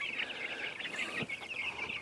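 Chickens cluck in a homemade chicken tractor out in a garden yard, with a few close, fairly loud clucks and murmurs over a steady bright background of bird chatter; no one talks.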